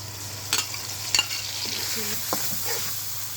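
Onion, chili, cumin and garlic paste fry in oil in a wok, giving a soft continuous sizzle broken by a few sharp stirring scrapes and clinks.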